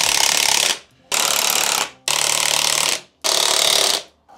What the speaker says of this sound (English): Use a proper set of spring compressors. Compress this spring down so we can undo this top nut